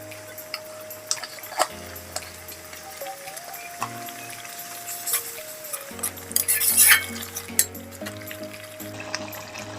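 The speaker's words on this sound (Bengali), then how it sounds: "মশলাটাকে ভালো করে কষে নেব।" Spices with turmeric and salt being fried and stirred in a pan for a Bengali fish head and saag dish, with repeated clicks and scrapes of a spoon against the pan over a soft sizzle, while music-like tones run underneath.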